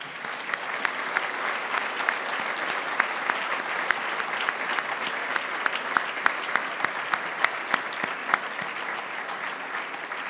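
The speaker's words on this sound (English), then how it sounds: "Let's please acknowledge them with our applause." An audience at the Overseas Press Club awards dinner gives sustained, even applause, many hands clapping in a continuous patter from a room that sounds moderately distant, with no talking over it.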